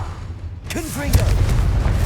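A Confringo explosive spell cast in Hogwarts Legacy, a deep booming blast with a sharp onset followed by rumbling tail, under a voice speaking over it.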